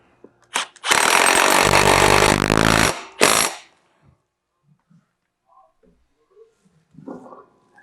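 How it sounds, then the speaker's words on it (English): An impact wrench tightens a wheel bolt on a Cub Cadet XT1 riding mower: one loud, close burst lasting about two seconds, then a short second burst, followed by near silence and faint handling noises. "Once you get a couple threads on it, hit it with the impact, tighten it down."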